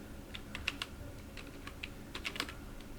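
Someone types a name on a computer keyboard while working in Python: a sparse run of light, crisp key clicks in small bursts and irregular rhythm, close and quiet, with no talking.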